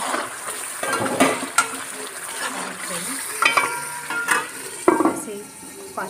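Masala for rohu fish curry frying in a pan, with close sizzling and irregular scraping stirs and clinks of a spoon, fairly loud and without speech.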